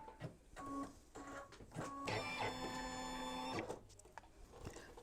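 A home sewing machine stitches a mug rug, tacking down the outer edges of a pocket and panel; several short motor whirs lead into one longer, steady mechanical run, faint and close.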